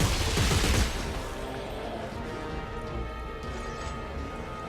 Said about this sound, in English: I'm assuming I have to shoot the limbs